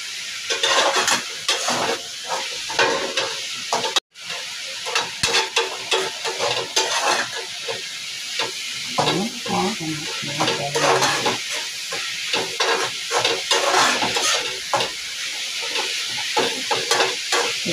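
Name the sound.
stir-frying drumstick leaves with egg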